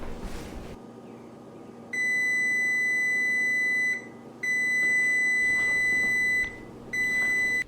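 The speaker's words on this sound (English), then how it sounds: "we'll wait for that timer to go off" A kitchen timer goes off while prime rib roasts, sounding loud piercing electronic beeps in three sustained bursts separated by brief pauses, over a low steady background hum.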